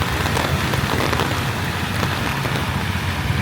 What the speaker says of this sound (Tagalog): may kusog ng uwan